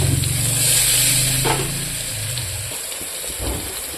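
Onions frying in hot oil inside a pressure cooker, a steady close sizzle and hiss that softens toward the end with a faint stir or two.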